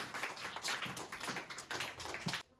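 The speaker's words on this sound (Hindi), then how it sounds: "बहुत बढ़िया, जोरदार ताली बच्चे के लिए।" Children in a school classroom clap for a classmate, a dense burst of many hands applauding together for about two seconds before it abruptly stops.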